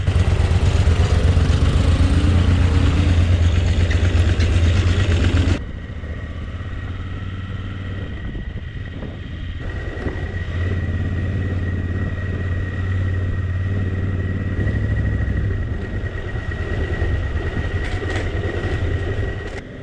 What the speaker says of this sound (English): The KTM rode like a dream, and I can definitely see why so many round-the-world travelers choose this bike.